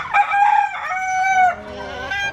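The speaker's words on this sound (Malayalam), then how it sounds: "ഇതെൻ്റെ പൂവാനല്ലേ?" A laying-breed rooster gives one loud, close crow, drawn out over about two seconds, heard alone.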